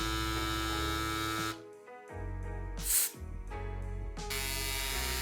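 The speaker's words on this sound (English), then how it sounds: "Next, we pump the 35C tire on a commuter bike" CYCPLUS Tiny mini electric pump inflating a 35C commuter bike tire: a loud, steady whirring motor drone with high buzz, briefly cut and restarted, with a sharp hiss of air near the middle.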